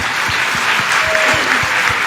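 Audience applause at a religious discourse on giving to dharma, steady dense clapping over two seconds with a faint hum underneath, no talking.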